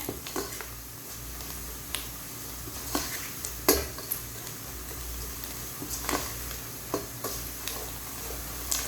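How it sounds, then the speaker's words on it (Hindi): Ginger, garlic and ground spices such as turmeric frying in a pan, a steady close sizzle broken by sharp clicks and scrapes of a spoon roughly every second. "बस इसको 1 से 2 मिनट के लिए अच्छे तरीके से पकाऊंगी ताकि मसाले तकरीबन इसके अंदर शामिल हो जाएं।"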